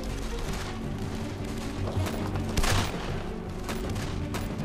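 Sustained gunfire from a TV spy drama set in wartime, a continuous crackle of rapid shots with a few louder bursts, distant and steady throughout with no voices.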